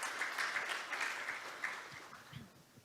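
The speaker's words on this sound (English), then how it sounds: "could you please give him another round of big applause?" Conference audience applause at an international development opening session, a fairly quiet patter of clapping that is brisk at first, then thins and tapers off toward the end.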